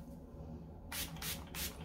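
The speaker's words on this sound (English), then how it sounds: "I think I forgot to spray the sun in on the top part" Sun In hair lightener spritzed onto grey-colored hair from a pump bottle in three quick, close hissing bursts over a steady low background hum.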